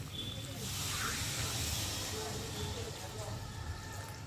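Water hits a hot pan of chicken and papaya curry, making a loud, sustained hissing sizzle that slowly fades.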